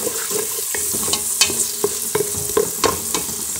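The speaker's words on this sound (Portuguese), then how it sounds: "Vamos refogar aqui." Onion, bell pepper, tomato and chili peppers sauté in a pan, a steady close sizzle broken by repeated scraping stirs and clacks of the utensil against the pan, with no voices.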